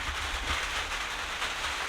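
Rain falls during a rainy-season camping trip on a savanna, making a steady broadband hiss that stays fairly loud throughout, with a low rumble underneath.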